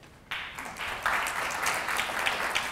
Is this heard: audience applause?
yes